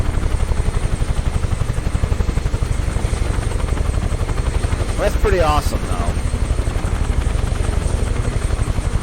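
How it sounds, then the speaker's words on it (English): A US Army medical helicopter in Microsoft Flight Simulator 2024 gives a steady, rhythmic rotor thump throughout, loud and close, with a brief whine in the middle while someone talks over it. "And this is the medical chopper."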